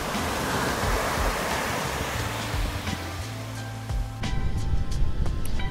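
Atlantic ocean surf rolls onto a wide, clean sandy beach near Porto, a loud continuous wash of breaking waves with a surge toward the end.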